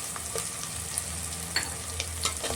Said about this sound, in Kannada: ಇವಾಗ ಶುಂಠಿ ಬೆಳ್ಳುಳ್ಳಿ ಪೇಸ್ಟ್ ಹಾಕ್ತಾಯಿದ್ದೀನಿ